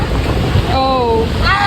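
Wind buffets the microphone on an overcast beach with surf roaring underneath, loud and constant, while a voice briefly speaks over it.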